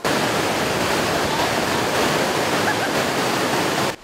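A rushing mountain stream at Shuili Creek, used as a site for river rescue training, gives a loud, constant roar of churning water that fills the whole stretch without any break.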